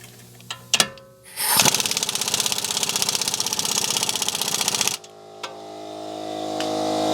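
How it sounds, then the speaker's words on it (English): An air compressor kicks on after a few sharp clicks and runs with a loud, rapid pulsing chug for about three seconds, then cuts out, leaving a steady hiss from a leaking plastic fitting. "I've been trying to cut the compressor out because as you guys can hear, it's leaking from this plastic piece"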